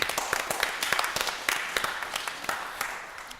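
People at a city council meeting give a brisk round of applause that starts loud and tapers off slightly. Individual claps stand out over the general patter.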